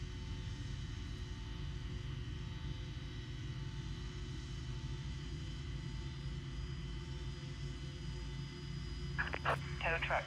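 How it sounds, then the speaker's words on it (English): Steady low engine rumble and whine of a Boeing 727 freighter spooling up in a flight simulator game, loud and continuous, with a brief burst of clattering near the end. "that sounds like a good engine start to me"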